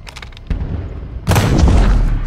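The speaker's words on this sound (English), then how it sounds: "those gunshots would have sent out alarm bells to everybody" Gunshots in the video game Beyond: Two Souls: a few faint cracks, then a sudden loud blast with a booming, reverberant tail that stays heavy and rumbling to the end.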